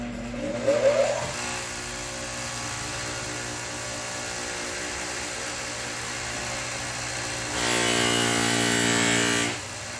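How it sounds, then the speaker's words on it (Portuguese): Bench polishing machine buffing a cattle or buffalo horn knife handle, a steady motor whine running throughout, with a brief contact flare near the start and a louder, brighter stretch of buffing toward the end. "Agora eu vou para a politriz aqui, ó."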